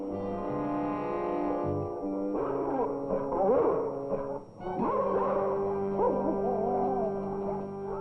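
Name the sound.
guard dogs barking at an obedience school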